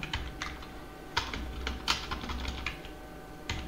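Rapid typing on a computer keyboard, a steady run of light clicks with a few sharper keystrokes standing out, close up and alone with no talk over it.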